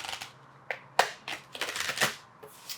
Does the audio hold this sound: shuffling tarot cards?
yes